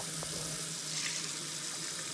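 Tap water runs steadily into a kitchen sink as a hummingbird feeder is rinsed out, a continuous close hiss and splash with no speech.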